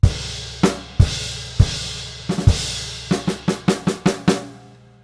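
Drum kit playing two bars of an exercise: spaced snare and crash hits, then a quicker run of snare strokes before a final accent, close and loud with no talk.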